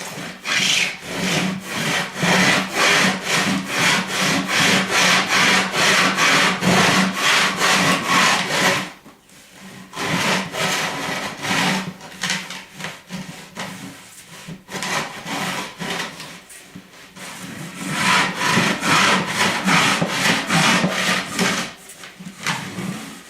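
Hand saw cutting through a wooden drum shell, loud rhythmic back-and-forth rasping strokes in quick steady succession, close up, with a short pause partway and a few uneven strokes near the end.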